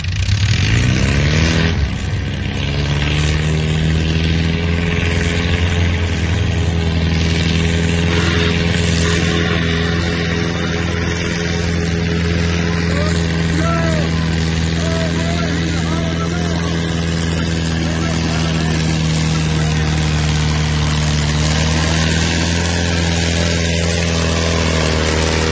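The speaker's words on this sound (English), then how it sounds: "He sent me a video of their tractor." A pulling tractor engine runs steadily at high, loud power from start to finish, giving a continuous droning roar with strong low harmonics.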